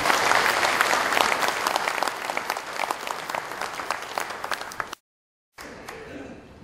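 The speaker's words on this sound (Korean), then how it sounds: "박수로 환영해 주시기 바랍니다." A large forum audience in a hotel hall bursts into dense, sustained applause welcoming guests, loud and steady for about five seconds before a brief cut, then fainter clapping resumes.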